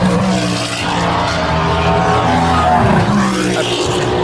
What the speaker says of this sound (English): Grumpy Toyota. Sounds very throaty